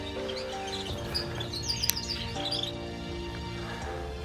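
Birds chirp and tweet steadily in an aviary, with soft overlapping calls and a brief sharper note near the middle over a constant background hum.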